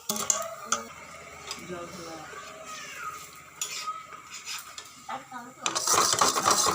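Patishapta pitha fries on a tawa beside a kadai, with close metallic scrapes and clinks of a utensil against the pan, light sizzling, and a louder hiss near the end.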